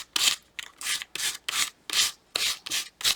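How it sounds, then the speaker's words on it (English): A thick file rasps across a small wooden dog cutout in eight quick, scratchy strokes, close and crisp with short gaps between them and no voices. "let's try the dog with a more thick file. this is super scratchy"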